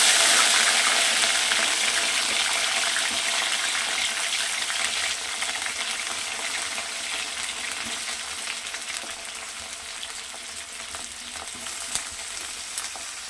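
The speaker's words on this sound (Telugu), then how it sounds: "తర్వాత ఇందులో కట్ చేసుకున్న ఈ వంకాయలు వేసేద్దాము." Cut eggplants are frying in hot oil in a pan for bagara baingan, making a loud, continuous close-up sizzle with light stirring that eases slightly over time, with no talking.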